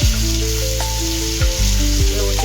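Ginger-garlic paste sizzles and crackles steadily in hot oil in a kadhai, a loud, continuous fry with faint clinks of a spoon against the pan.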